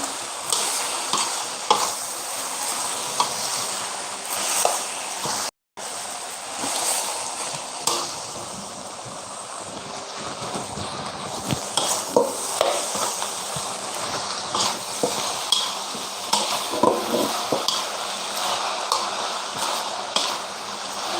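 Pad Thai stir-fried in a hot pan with pad Thai leaves, continuous clattering toss and scrape of a spatula over a busy sizzle, close and loud, with a brief dropout early on.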